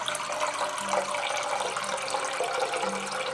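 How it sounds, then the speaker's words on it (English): Water pours steadily into a metal pot outdoors, a continuous close splashing and rushing stream that fills the whole stretch with little change. "Let's put some water down in this metal pot right here"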